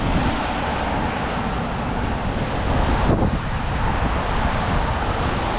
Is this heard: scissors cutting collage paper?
no